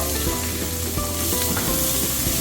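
Square-cut onion sautéing with garlic in a pan for chicken pasta makes a loud, continuous sizzle with light stirring clatter over a faint tonal background.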